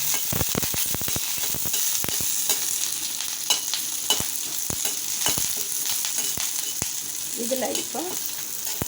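Dried red chillies, onion and curry leaves fry in hot oil for a banana stem chutney, giving a steady sizzle with frequent sharp crackles and pops, while a voice speaks briefly near the end.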